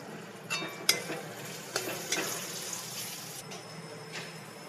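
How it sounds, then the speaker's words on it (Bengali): Chicken pieces sautéed in a pan for a yogurt, poppy-seed and vegetable gravy, giving a steady soft sizzle with a few sharp scraping clicks of a spoon stirring against the pan, close and alone. "এবার দিয়ে দেবো চিকেন দিয়ে ভালো করে আরও কিছুক্ষণ কষিয়ে নেব"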